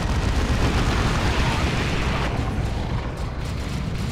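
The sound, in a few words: artillery barrage in video game Dawn of War 2: Retribution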